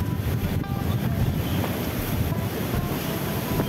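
Water rushing over a high river dam on the upper Kalikuning river at Plunyon, Sleman, gives a steady, dense roar with broad wind-like noise that stays loud and continuous throughout.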